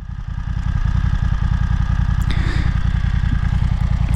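A BMW F 900 XR motorcycle engine runs close by with a loud, steady, rapid low pulsing beat, holding constant revs throughout.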